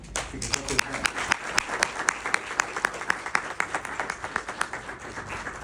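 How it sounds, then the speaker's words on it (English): An audience at a Texas Democratic Convention caucus meeting applauds with crisp, fairly even claps that stand out clearly, with voices talking in the background. "I think they deserve a round of applause."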